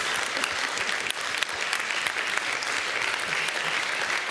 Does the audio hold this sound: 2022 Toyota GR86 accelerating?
no